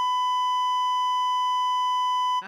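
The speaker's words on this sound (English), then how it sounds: "Can you beep for 5 seconds straight?" A single steady electronic beep tone sounds loud and unbroken on its own for over two seconds, then cuts off abruptly at the end.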